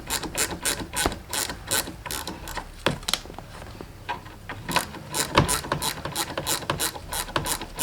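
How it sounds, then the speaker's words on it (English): A hand ratchet loosens a 10 mm bolt on an Audi RS3, clicking in fast, steady bursts close up with brief pauses between strokes, alone without speech. "Go ahead and take off this 10 mil"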